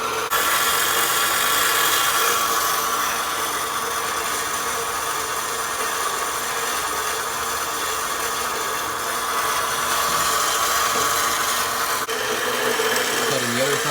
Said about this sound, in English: We're cutting this smaller piece on the bandsaw, just so it does a little bit more of a straight, cleaner cut.